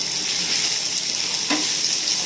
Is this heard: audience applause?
no